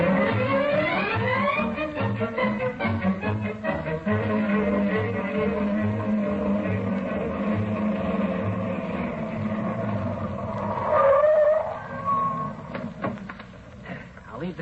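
A car in a 1950 radio comedy drama is heard driving and then pulling up to a stop, a steady rumbling engine with rhythmic chugging under dialogue that slows and fades near the end.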